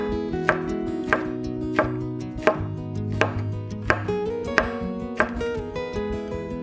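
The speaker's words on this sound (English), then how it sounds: "Let's cut it into small strips first. And then cut into small pieces." A knife chops red peppers into small pieces on a cutting board, with sharp, evenly spaced chops about every two-thirds of a second, close and alone.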